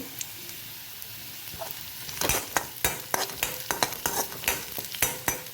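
Raw banana peel and carrot stir-fry sizzles in a pan, a quiet steady fry that becomes a run of sharp, rhythmic spatula scrapes and clacks about halfway through.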